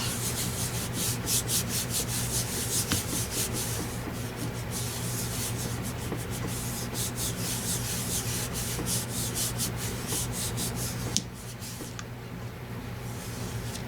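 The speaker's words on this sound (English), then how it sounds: "And I'm going to rub it, rub it, rub it." Paper is rubbed by hand over a gelli printing plate, a steady close scratchy rubbing that runs almost continuously with a brief break near the end, with no speech over it.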